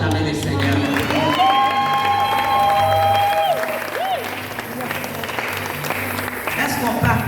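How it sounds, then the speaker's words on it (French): At a church women's conference in Sheffield, a crowd applauds and cheers loudly and continuously, with whoops and shouted voices rising over the clapping and some long sung or called-out tones. "Est-ce qu'on peut acclamer le Seigneur?"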